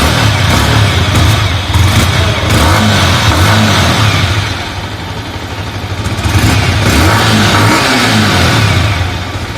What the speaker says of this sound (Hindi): बाइक को स्टार्ट करके दिखा दो इनिशियल।